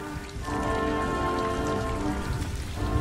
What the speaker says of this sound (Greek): Όμως στο δρόμο άρχισε να πέφτει δυνατή βροχή